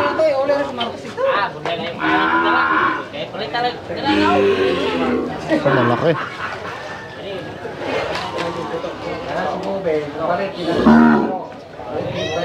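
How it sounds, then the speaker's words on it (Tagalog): A large bull lowing at a Philippine livestock market, drawn-out moos rising over loud nearby chatter, with people talking throughout. "Ayun, malaking toro din yun."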